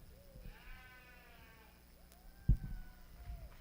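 Sheep at a youth born-and-raised lamb show at a county fair give a few faint, wavering bleats, with a sharper thump near the end and steady low barn and crowd noise around them.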